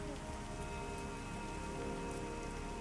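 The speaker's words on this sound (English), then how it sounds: "Got a good rain going" Steady rain falls in the fantasy game Pantheon: Rise of the Fallen, a soft, even patter over surfaces that keeps going at low volume with no voices.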